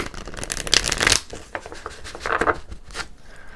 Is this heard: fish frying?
no